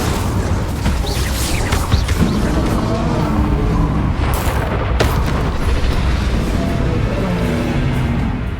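Bombarda and Confringo spell explosions in Hogwarts Legacy, loud close booms and bursts layered over dense combat noise, with a few sharp cracks standing out.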